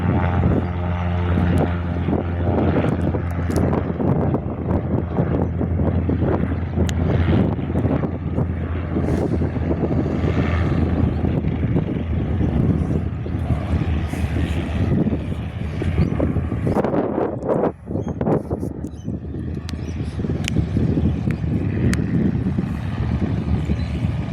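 A GA8 light propeller aircraft departs a windy airfield, its droning engine steady and loud throughout, with heavy wind buffeting the microphone.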